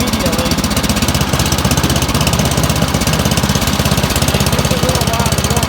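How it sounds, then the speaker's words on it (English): A Troy-Bilt snow thrower's small gasoline engine runs loud and close with a fast, even chugging pulse and a rough mechanical rattle, holding steady without pause. "you got to give it a good pull. It should fire up within a pull or 2."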